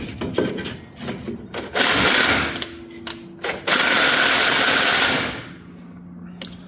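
A DeWalt impact wrench works on alternator bolts of a 2008 Ford F350, giving two sustained loud bursts of hammering whir with short rattling pauses between, struggling without breaking the bolts loose.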